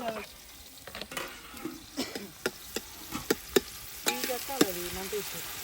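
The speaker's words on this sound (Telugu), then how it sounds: "తాలింపు అయితే సుయ్యన పైకి లాగాలి" Tempering spices sizzle in hot oil, heard as a soft, continuous fry with repeated sharp utensil clicks and scrapes. Voices and faint background chatter are present in the open outdoor setting.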